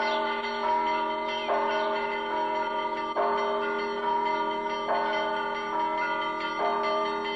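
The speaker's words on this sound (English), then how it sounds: "Sister Vera rings the bells at the Russian Orthodox Gorny Monastery." Church bells of the Russian Orthodox Gorny Monastery in Jerusalem peal in a steady repeating pattern, with clear resonant strikes roughly every second or two over a sustained ringing hum.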